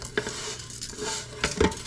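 Rice tipped into a hot pan on the stove to toast, a close crackling sizzle with a few sharp clinks and scrapes of cookware, short and without talk.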